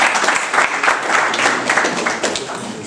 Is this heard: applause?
yes